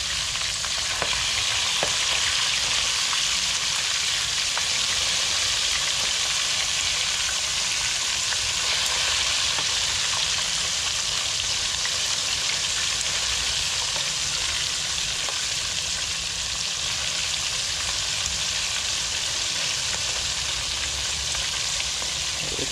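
Red snapper pieces fry in a pan for Guyanese-style curry, giving a steady, dense sizzle that holds even and loud throughout with no voices over it.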